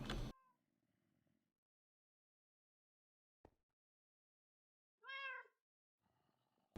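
A cat meows twice indoors: a short, loud meow at the start, then a longer, drawn-out meow about five seconds later, separated by near silence and a single faint click.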